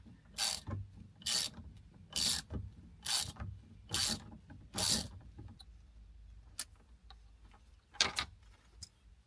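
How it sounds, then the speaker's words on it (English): A ratchet wrench loosens the T55 center bolt of a Lamborghini Aventador steering wheel, giving six loud, rhythmic bursts of close-up clicking, then a few scattered single clicks. "now we remove the center bolt, T55."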